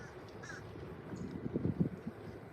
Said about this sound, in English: Oh, this is a limpkin, I think it's called, this bird.